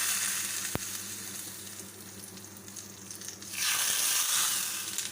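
Hot tempering is poured into restaurant-style coconut chutney. A low simmering hiss and a single sharp tap come first, then a loud, sudden burst of crackling sizzle that keeps going to the end.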